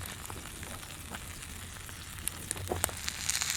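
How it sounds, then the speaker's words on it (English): A steady hiss of steak sizzling in a hot skillet, with sharper crackles and pops growing toward the end. "I need that steak to be sizzling when it hit the pan"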